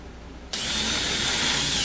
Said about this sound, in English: one person can kind of hold it in place, another person can drill